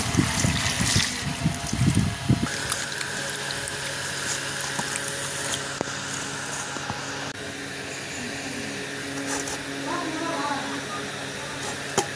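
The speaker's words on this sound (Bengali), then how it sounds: "প্রথমে আমগুলোকে আমি পানি দিয়ে ধুয়ে নেব।" Running water splashes over raw green mangoes as they are washed for a mashed mango dish, a steady tap flow with a louder burst of splashing at the start, then a continuous trickle.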